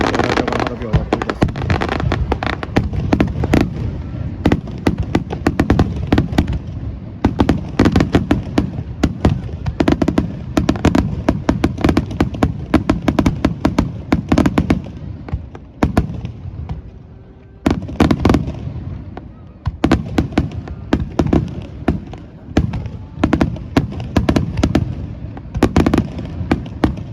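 Fireworks burst continuously at the Iizuka summer fireworks festival in Japan, loud dense pops and booms overlapping with crowd noise and voices talking throughout.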